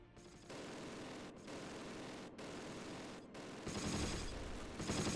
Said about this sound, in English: this where the MG42 is firing from